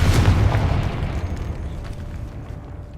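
Confringo explosive spell blast in Hogwarts Legacy on PS5: a single loud, booming explosion right at the start, its rumble slowly fading away over the following seconds with no talk.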